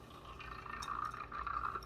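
Agar ingredients pour into a funnel, a faint, continuous liquid trickle and splash with a few light glassy clinks, no voices.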